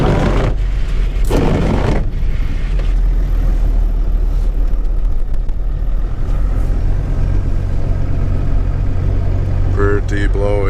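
A Cummins diesel engine in a Ford Excursion rumbles steadily while plowing snow, a constant low drone with heavy wind buffeting over it throughout.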